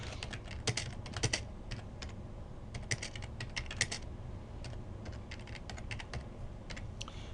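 A computer keyboard typed on steadily while editing in Microsoft Word 2013, the Enter key struck among irregular clicking keystrokes, close and clear, with no voices.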